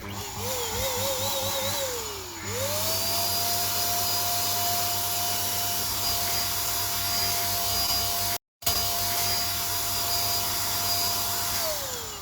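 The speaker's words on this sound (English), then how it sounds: "let's use our blower to remove the dust from the surface" An electric air blower runs continuously to clear dust off a concrete surface, a loud, steady roar whose pitch climbs as it spins up and then holds, briefly cutting out once before resuming.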